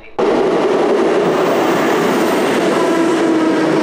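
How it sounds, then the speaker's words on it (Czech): A train rumbles in loudly and close, starting abruptly and holding a steady heavy roar with a faint high whine overhead. "nečekali jsme dlouho a vlak přijel"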